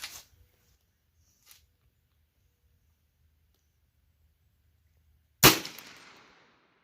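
A single sharp rifle shot from an Auto Ordnance M1 Carbine firing .30 Carbine ammunition rings out after several seconds of near-silence, loud and close, with a decaying echo tail trailing off outdoors.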